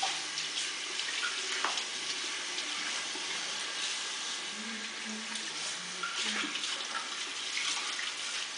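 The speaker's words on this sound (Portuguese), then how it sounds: "Desliga a torneira. Não pode gastar." Water runs steadily from a tap into a sink, a constant close splashing hiss throughout, with faint voices in the background.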